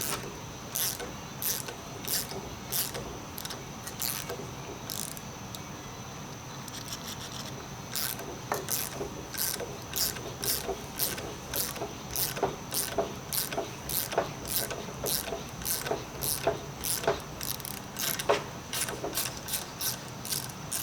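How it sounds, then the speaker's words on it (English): A tap cuts threads into aluminum during a 6.7L Powerstroke HO engine install, giving a series of sharp, close ratcheting clicks at an uneven pace over a low background hum, with no voices. "You always want to use penetrating oil while you're tapping aluminum"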